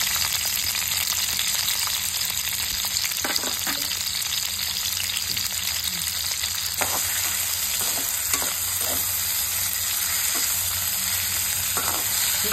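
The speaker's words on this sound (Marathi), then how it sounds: "मी आता त्या तेलामध्ये 2 उभे कांदे जे कापून घेतले आहेत ते मी उभे कांदे घालत आहे तेलामध्ये" Two sliced onions fry in hot oil for a shark fish masala, a steady loud sizzle with scattered crackles and pops, close and continuous, with no talk.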